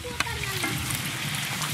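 Dried red chilli and bay leaf crackle in hot mustard oil in a karai, a tempering for dal, with a continuous sizzle and one brief sharp knock near the start.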